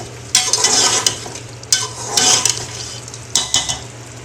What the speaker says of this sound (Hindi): अब मैं इसमें शामिल करूंगी 1/2 कप ऑयल और अब हम इसकी अच्छे से भुनाई करेंगे